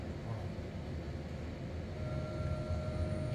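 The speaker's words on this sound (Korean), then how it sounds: "수색정과 헬기가 신중하게 움직입니다" A search helicopter works over the sea off Sicily in Italy, its steady droning rumble continuous and fairly loud throughout, with a faint tonal whine rising partway through.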